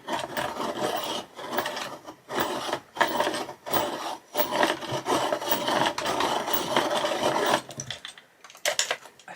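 A Coloursoft colouring pencil is ground in a stiff, dry handheld sharpener at a desk, giving repeated close scraping, rasping turns in bursts with short pauses between them.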